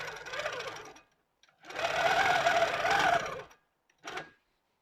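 A longarm quilting machine stitches quilt binding in three bursts, a short run, a longer steady whirring stretch and a brief final burst, close and clear with quiet gaps between.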